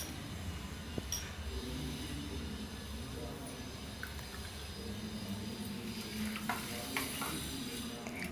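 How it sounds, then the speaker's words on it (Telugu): A spoon stirs a tablespoon of black pepper powder into a colostrum milk mixture in a bowl: a steady, close scraping and swishing with a few light clinks, with no talking. "ఇందులో మనము 1 టేబుల్ స్పూన్ మిరియాల పొడిని వేసి మరొకసారి కలుపుకోండి"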